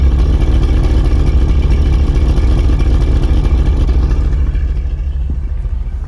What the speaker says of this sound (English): we'll get a listen to the idle, sound of the idle here from the exhaust pipes